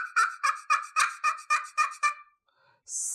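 A slate friction call for turkey hunting is scraped in a rapid rhythmic series of about nine sharp yelps imitating a wild turkey, close and clear, followed by a short pause and a higher scratchy squeal at the end.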